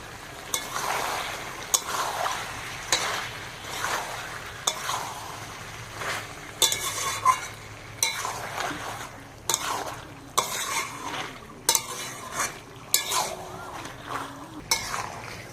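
Chicken sautéed in a pan with tomato, green chili and peas, a continuous sizzle under repeated scraping and clanking spatula strokes against the pan.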